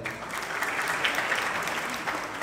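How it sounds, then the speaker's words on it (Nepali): Loud, dense applause from a large audience at a Nepali film event, an even roar of many hands clapping that holds steady throughout with no voices on top. "जोरदार ताली"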